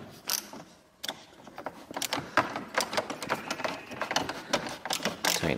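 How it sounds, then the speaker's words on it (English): A screwdriver turns a screw on a Smart Roadster Brabus Coupe rear light, making close irregular clicks and ratcheting mechanical ticks, with one brief pause before the clicking picks up again. "Get our screwdriver through the top."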